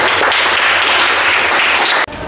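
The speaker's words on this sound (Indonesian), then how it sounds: "Ya, tepuk tangan, betul sekali." A vocational automotive class, studying a fuel-injected motorcycle fault, bursts into loud, close, continuous clapping that cuts off abruptly near the end.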